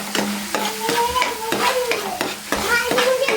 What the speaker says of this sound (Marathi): हा वाटण आहे ना तो सगळा ह्याच्यात मी फ्राय करून घेते